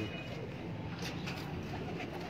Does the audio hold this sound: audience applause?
no